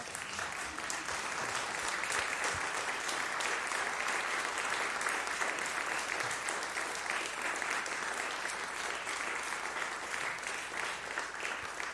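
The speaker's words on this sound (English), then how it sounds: "A standing ovation for Brenna Mayer." A congregation at a Sunday church service rises in a standing ovation for Brenna Mayer, with steady, dense applause that fills the sanctuary at an even level throughout.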